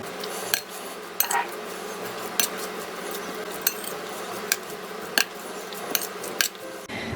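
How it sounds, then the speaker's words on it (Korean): Seasoned chicken breast filling with chopped scallion, red chilli, sesame oil and sesame seeds is mixed in a bowl, with soft stirring and a spoon clinking against the dish at irregular intervals. "그래서 양념을 버무려 줍니다."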